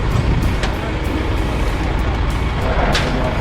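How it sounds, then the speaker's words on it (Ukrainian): A New Holland tractor rolls closer on a farm field, its steady engine rumble and clatter filling the scene at fairly close range with no talking. "Ось вже і під'їжджає наш трактор"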